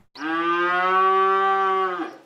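A single cow on a dairy farm in Cleveland, Tennessee, lets out one long, steady, loud moo lasting about two seconds, close to the microphone with no voices.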